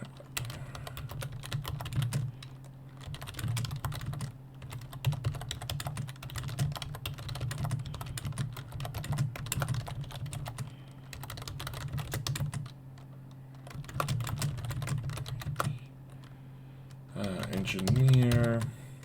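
Someone types on a computer keyboard in rapid bursts of soft, close key clicks, broken by short pauses, with someone speaking faintly at times.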